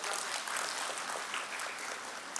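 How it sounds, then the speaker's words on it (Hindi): An audience at a bird festival celebration claps steadily, a dense, continuous wash of applause with no voices over it. "जोरदार करताली हो जाऊ।"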